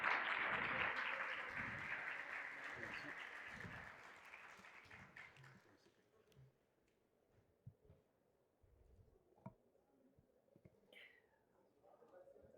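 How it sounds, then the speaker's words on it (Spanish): Applause from a panel audience at a water and sustainability investment event, fairly faint and fading out after about five seconds into quiet room noise with a few stray knocks. "un fuerte aplauso nuevo para nuestros panelistas por su tiempo"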